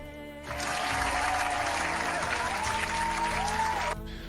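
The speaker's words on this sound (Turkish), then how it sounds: "Alkışlıyoruz" A burst of applause starts abruptly, holds steady for several seconds with a faint tone underneath, then stops suddenly.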